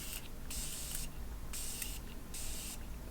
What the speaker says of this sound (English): Now some Morphe setting spray,